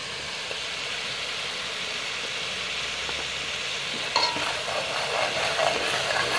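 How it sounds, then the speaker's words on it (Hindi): Tomatoes fry in a pan in a Pakistani village kitchen, a steady close sizzle throughout with brief clatters of stirring near the end. "और इसे 2 मिनट तक भूनेंगे।"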